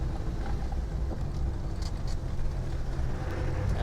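A 1997 Land Rover Defender 110 with a 300Tdi diesel engine drops to third gear while climbing uphill, giving a steady, close low engine drone mixed with cabin and wind noise, with no talking.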